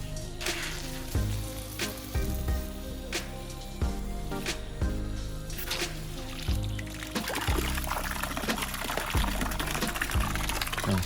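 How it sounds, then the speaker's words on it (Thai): A small 12-volt electric water pump sprays water in a strong, steady spattering rush, with repeated low thumps and bursts throughout and a harsher splash near the end; no one speaks. "นี่ครับปั๊มน้ำ12โวลต์ ก็แรงอยู่นะครับ"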